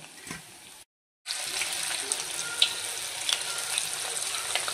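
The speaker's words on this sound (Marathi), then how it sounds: "मी आता 13-14 असे तळते" Veg manchurian balls deep-frying in oil, a dense continuous bubbling sizzle close by, briefly cut to silence near the start before resuming steadily.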